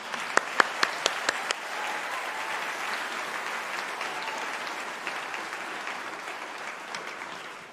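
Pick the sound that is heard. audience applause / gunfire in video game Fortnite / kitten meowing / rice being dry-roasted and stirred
audience applause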